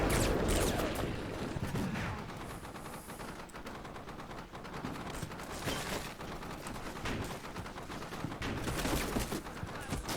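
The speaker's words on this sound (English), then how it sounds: "they get spotted by the British Terminators who open fire" Gunfire in the Combat Mission Shock Force 2 war game as British troops open fire, with dense overlapping machine-gun bursts and rifle shots crackling continuously, loud and busy throughout without any voices.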